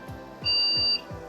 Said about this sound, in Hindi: आपको कुछ सेकंड में एक बीप एरर आएगी